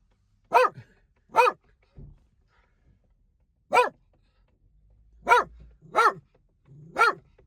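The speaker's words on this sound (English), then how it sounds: "He's barking at the veterinary nurses who just pulled up." A small dog barks at a vet practice in Pershore, six sharp, loud single yaps spaced irregularly with quiet gaps between, close by and with no talk.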